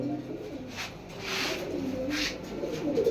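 A pair of Bezi-necked pigeons coo close by, their low, soft, rolling calls steady and continuous with a faint murmur in the background.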